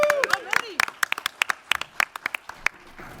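Scattered hand claps ring out from a panel audience at San Diego Comic-Con, irregular and fairly close, mixed with voices and brief laughter.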